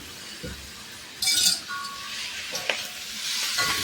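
Pork roast in a pan with a roasted, ground spice masala sizzles steadily while a utensil stirs it, with a few sharp clinks against the pan.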